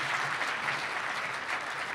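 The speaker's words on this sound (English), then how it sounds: "let's give Stuart a big round of applause" An audience at a plenary session of a science conference in Tucson applauds after a talk, a continuous, fairly soft wash of many hands clapping throughout.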